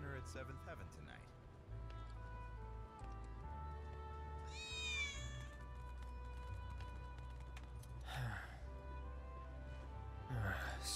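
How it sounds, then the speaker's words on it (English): A cat in Final Fantasy VII Remake gives a short meow partway through, half-buried under someone talking and background game sounds, with footsteps or clopping nearby. "Did you hear that just now? I think one of Betty's cats might be nearby."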